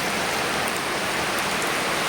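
Steady rain pours down at a nature spring in Juban, Sorsogon, a dense, even hiss of falling water filling the whole stretch with no voices and no breaks.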